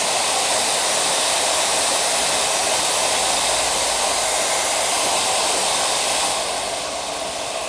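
A handheld hair dryer blows loud and steady at close range while short hair is dried and styled, its broadband rush easing slightly near the end; no one speaks.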